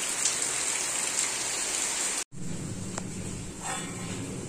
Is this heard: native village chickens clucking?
no